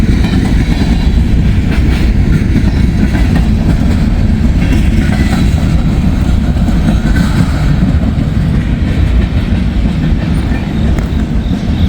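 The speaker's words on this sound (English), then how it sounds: "So there goes Norfolk Southern." A Norfolk Southern freight train rolls past close by with a loud, steady rumble and rattle of wagons, a constant heavy roar lasting the whole stretch.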